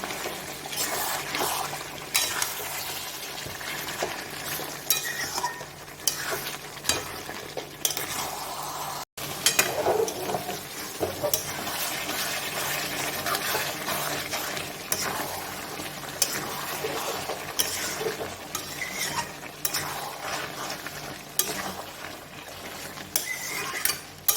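Mutton braising in a pot with two potatoes, stirred continuously: a steady low sizzle with constant scraping and knocking of the spoon against the pot, close and moderately loud, no voices.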